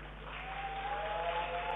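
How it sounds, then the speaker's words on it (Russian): Audience applause at the close of a Kazan Federal University space telemost with the International Space Station, a steady wash of clapping from a crowd, even and sustained, with faint voices beneath. "Аплодируем."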